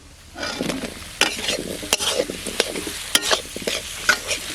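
Cut potatoes stirred and sautéed in spiced oil in a pan for a village-style golden fish curry: a steady close sizzle broken by repeated scraping and tapping strokes of a spoon against the pan.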